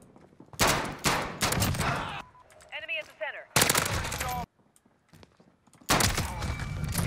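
Akimbo .357 revolvers fire in a video game in three loud, close bursts of rapid shots separated by short gaps, with faint electronic sweeps in the quieter stretch between them.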